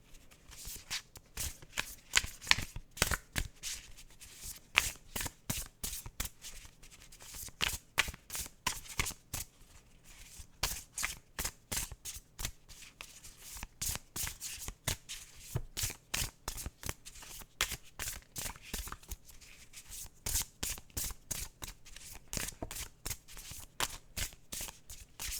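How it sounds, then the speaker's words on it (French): A deck of tarot or oracle cards is shuffled by hand, giving steady rapid riffling and flicking bursts that repeat for about twenty-five seconds, close and fairly quiet, with no talking. "Je me lance dans le mélange des cartes."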